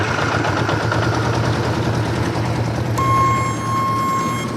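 1974 Honda CB550K Four motorcycle with an aftermarket exhaust idling, a steady low rumbling engine drone throughout, joined midway by a sustained electronic buzzing tone from the factory turn signal buzzer.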